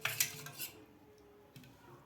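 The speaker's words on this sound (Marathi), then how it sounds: "व्यवस्थित आपल्याला फेटून घ्यायचं आहे ताक" Buttermilk mixed with gram flour being whisked in a bowl for mutter kadhi, giving quick clinking, scraping strokes of utensil against the bowl in a short burst at the start, then quiet with one more faint clink near the end.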